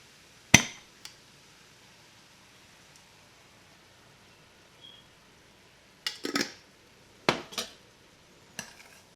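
Corn, black beans and salsa being stirred into cooked meat in a pan, heard as a few sharp, separate utensil clanks and scrapes with long quiet gaps between them.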